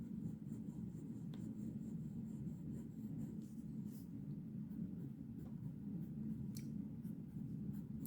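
A fountain pen with a steel nib scratches steadily across paper, a soft continuous writing scratch held close over a low background hum, with no talk.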